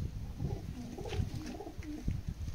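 Pigeon of the red-eyed Kalanka type cooing close by in a loft, soft low throaty coos repeating through the clip with faint background noise.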